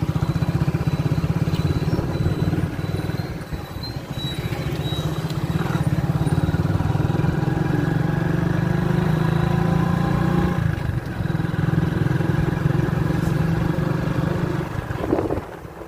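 A motorcycle's engine drones steadily while being ridden on a road, a loud, continuous mid-pitched hum with rushing wind across the whole stretch and slight dips in intensity.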